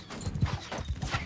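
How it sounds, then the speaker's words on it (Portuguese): A horse gallops in the Mount & Blade 2 Bannerlord video game, its hoofbeats a fast, steady, drumming clip-clop heard up close. "Olha a velocidade desse cavalo"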